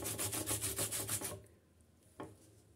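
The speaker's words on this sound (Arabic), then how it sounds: "بعد ما حكيت هاد القريعه مع خيزو" Zucchini and carrot are rubbed against a grater in quick, rhythmic rasping strokes that sound close and loud, followed by a pause, one faint scrape and low background noise.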